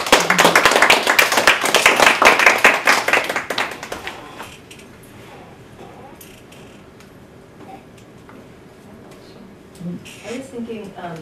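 An audience claps after a research talk, loud, dense applause for about four seconds that then fades into a quiet room with faint shuffling and murmurs.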